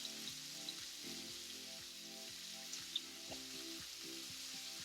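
Steady, even sizzle of food frying in a hot pan for spicy rigatoni, moderately quiet and continuous with occasional faint pops, alone without talk.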